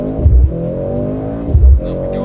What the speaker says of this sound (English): Feels like it's got a box of first gears. It's just the same acceleration rate.